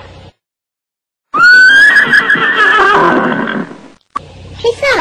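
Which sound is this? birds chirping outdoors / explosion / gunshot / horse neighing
horse neighing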